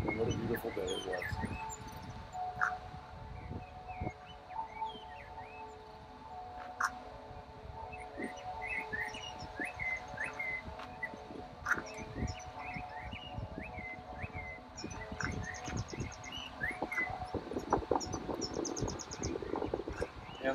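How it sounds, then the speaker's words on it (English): Birds chirp and twitter throughout a sunny day at a bird sanctuary likened to a national cemetery, scattered calls over a steady background hum, with some rustling and low rumble. "But listen to the birds."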